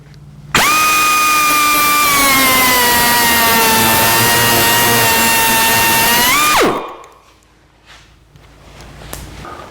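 A high-pitched power cutter whines loudly and steadily for about six seconds while trimming the end of a throttle cable for a 1949 Chevrolet gasser, then winds down and gives way to faint clicks.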